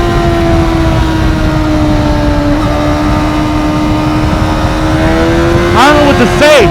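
A Honda CBR600RR motorcycle engine pulls hard in a sustained high whine that climbs steadily, then snaps through quick gear changes with sharp pitch drops near the end, loud and close with wind rush underneath.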